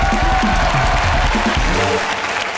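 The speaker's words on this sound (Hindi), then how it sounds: "जोरदार तालियां" A studio audience at a Comedy Nights Live comedy show bursts into dense, steady applause that fills the short stretch, loud and close, with some crowd noise mixed in.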